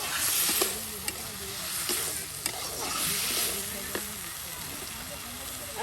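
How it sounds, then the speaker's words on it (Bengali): Flat beans sautéing slowly with spices in a pan over a fire, giving a continuous sizzle with intermittent scraping stirs and occasional knocks, fairly close. "এই যে এটা কিন্তু মশলার সাথে কিন্তু সিমগুলো বেশ সময় নিয়ে কষানো হচ্ছে।"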